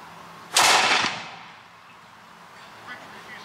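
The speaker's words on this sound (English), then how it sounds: "A good soldier can fire one shot every 45 seconds." A single loud musket-style gunshot from a soldier at a historical firing demonstration in St Augustine: a sharp broadband blast with a half-second roaring tail, then quiet crowd ambience.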